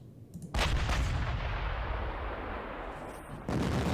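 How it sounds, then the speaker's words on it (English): Artillery shelling in the wargame Panzer Campaigns Kiev 43, a heavy booming blast with a long rumbling roar, followed by a second impact near the end. "Let's start shelling"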